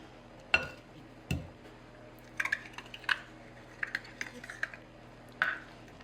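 Cake batter for a moist apple cake being mixed in a bowl, soft scattered clicks and scrapes of a utensil against the bowl at close range, fairly quiet, with no talking.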